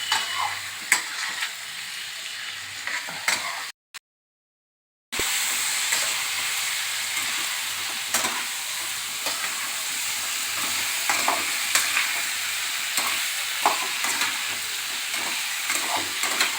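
Fried cauliflower and potatoes stir-fried with spices in a pan for a fish curry, giving a steady close sizzle with scraping stirs and a brief dropout near the start.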